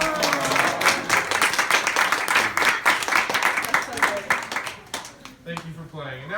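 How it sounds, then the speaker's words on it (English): A small crowd claps steadily for a couple at a bridal shower game, a round of applause lasting several seconds and then fading, with a voice speaking near the end. "Let's give our couple a round of applause."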